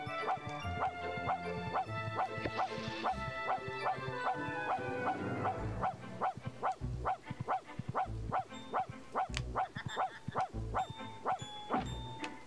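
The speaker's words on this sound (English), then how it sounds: "That's me just hitting the bark button over and over again." Repeated cartoonish dog barks from the dog character in The Grinch on PlayStation 1, fired off in a steady rapid series over game music, loud and close.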